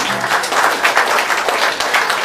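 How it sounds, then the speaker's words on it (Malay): Loud, dense applause from an audience, a continuous burst of many hands clapping close up, with no talking over it. "tepukan buat Tuan Edson."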